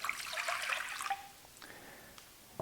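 About two cups of water are poured into a bowl for sourdough bread dough, giving a quiet splashing pour for roughly a second before it thins to a faint trickle and a few drips.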